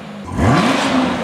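A car engine revs up in a single rising whir that climbs and holds at a loud, close pitch for about a second.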